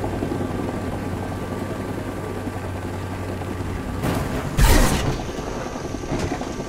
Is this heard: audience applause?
no